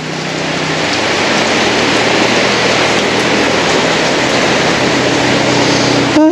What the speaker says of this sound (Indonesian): Karena hujannya semakin besar, jadi kita berteduh dulu di sini.